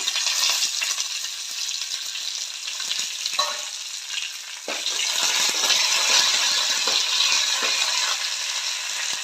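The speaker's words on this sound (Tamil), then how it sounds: "கடுகு பொரிஞ்சதும் கருவேப்பிலையும் வரமிளகாயும் போட்டுக்கலாம்." Mustard seeds, curry leaves and dried red chillies crackle and sizzle in hot oil for a tempering for kollu paruppu rasam, a steady loud frying hiss with sharp popping bursts throughout and no talking.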